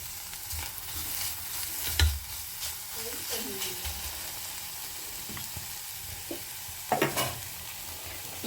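Vegetables sauté quietly in a pan, a faint steady sizzle broken by occasional spoon clinks and stirring scrapes, close by with low kitchen background.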